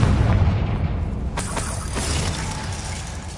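A Confringo spell bursts in Hogwarts Legacy with a loud booming blast that rumbles on and on, with a few sharp cracks and crackles ringing through the decay.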